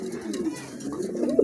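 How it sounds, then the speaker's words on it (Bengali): Pigeons for sale coo close by in a low, rolling murmur that swells near the end, with faint background noise and no talking. "হ্যাঁ, একদম নতুন কবুতর আছে"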